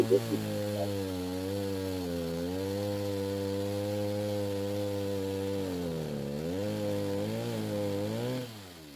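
Chainsaw with its rakers filed low for aggressive cutting, bucking firewood outdoors: a loud, steady engine drone close by that dips under load, then cuts off at the end.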